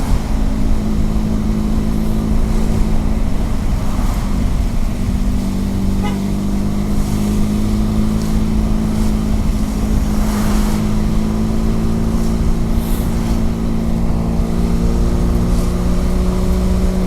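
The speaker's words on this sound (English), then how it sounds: "this bike's got the 500cc 2-cylinder twin engine." A Benelli TRK 502X 500cc twin-cylinder motorcycle on a wet, windy commute gives a steady, continuous engine drone with unbroken wind buffeting and road rush underneath.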